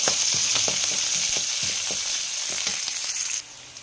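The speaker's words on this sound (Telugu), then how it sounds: "ఇందులోకి కరివేపాకు, తర్వాత ఆనియన్, పచ్చిమిర్చి కూడా వేసేసుకుందాము. ఇవి కొంచెం ఫ్రై అయినిద్దాం." Curry leaves, onion and green chilli sizzling in hot oil for a tempering, a steady bright frying hiss broken by soft stirring clicks, close up and uninterrupted until it quiets abruptly at the end.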